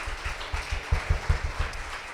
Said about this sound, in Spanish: Bríndele un fuerte aplauso allí al Señor Jesucristo donde está.